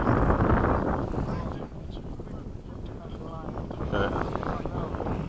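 Wind buffets the microphone outdoors in breezy conditions at a model jet flying field, a loud, rough, low rushing that gusts and eases throughout, with a brief spoken word over it.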